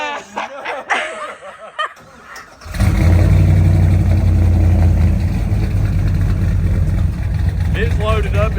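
An old pickup truck's cold engine with an untuned carburetor starts up and settles into a loud, steady, rumbling idle, following a stretch of nearby voices, with a faint voice returning near the end.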